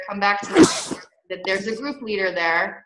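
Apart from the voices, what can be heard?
sneeze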